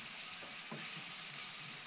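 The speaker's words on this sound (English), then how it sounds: "So we're going to brown our lamb" Lamb browns in a hot pan for a Moroccan tagine, a soft steady sizzle with faint stirring scrapes and a small clink at the end, fairly quiet and without talk.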